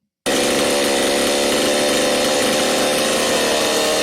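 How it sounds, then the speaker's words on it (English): A chainsaw starts abruptly and roars loudly and steadily, close up, with no talking over it. "it's not how you're supposed to start a chainsaw, but it is if you want to be cool"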